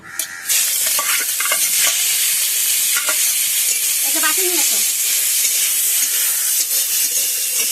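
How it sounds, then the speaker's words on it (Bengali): Chicken seasoned with salt and turmeric fries in a very hot kadai, producing a loud, continuous sizzle and hiss with stirring scrapes and clicks; a voice briefly speaks near the start. "লবণ দিয়ে, হলুদ দিয়ে এবার এই চিকেনটা আমি ভেজে নেব"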